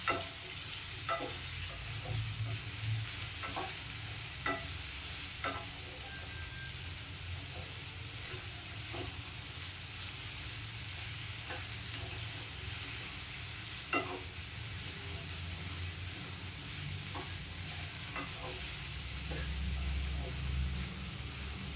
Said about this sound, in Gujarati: એમાં વઘારમાં થોડું લાલ મરચું નાખવાનું, પછી ભીંડા નાખી દેવાના.